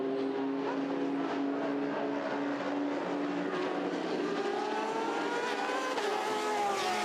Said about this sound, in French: Voilà, la Toyota numéro 8 qui passe